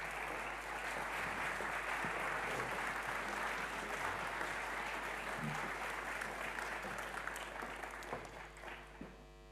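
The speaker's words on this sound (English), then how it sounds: "can we give a round of applause for our Sahar Sherzad, Nene, come on up, Jess O'Connell, and Kumi Naidu" Sustained round of applause from a seated audience at a public talk on just peace in The Hague, steady and dense throughout, tapering slightly near the end.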